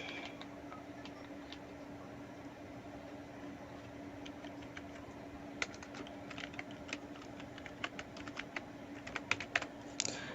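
Name being typed on a computer keyboard while signing up for a new Gmail account: a quiet run of light, irregular key clicks under steady room hum, growing busier toward the end, with no voices.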